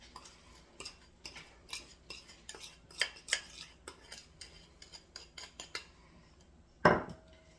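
A spoon scraping and tapping as it spreads pie filling into a crust, a quick run of light clinks and scrapes at close range, quiet overall, finishing with one louder knock against the dish.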